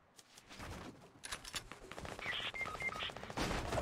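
Rapid automatic gunfire in a first-person shooter video game, a fairly faint burst of overlapping shots running for a few seconds amid other game sounds.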